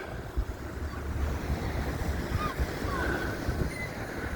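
Strong wind buffets the microphone on the seafront promenade at Blackpool, a steady roaring rumble with faint surf-like hiss underneath and no clear talk.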